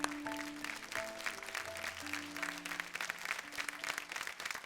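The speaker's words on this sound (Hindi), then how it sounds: "ये कोरस सिंगिंग करते रहे इसके लिए खड़े होकर ताली बजाओ" Audience rises to applaud chorus singers at a folk music show, a dense sustained clapping crowd with tonal music lines drifting underneath throughout.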